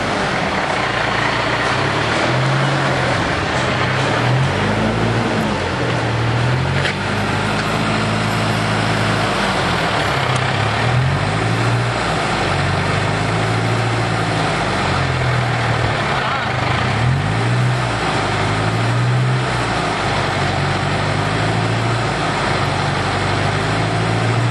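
A 2003 Mitsubishi Storm 2.5L diesel engine runs steadily in a continuous low rumble, close and loud, while someone speaks intermittently over it.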